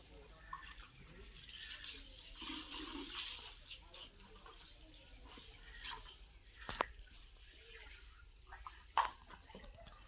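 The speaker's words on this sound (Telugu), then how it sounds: "ఇప్పుడు చల్ల నీళ్ళు కొలాయితో" Cold tap water from a hose splashes over bullocks as they are washed after cart-pulling practice, a continuous moderate gush with scattered sharper splashes and clatters, and faint voices in the background.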